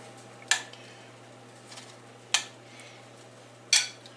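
A spoon stirring pizza sauce in a container gives three sharp, bright clinks spaced about a second apart, set against a quiet kitchen background.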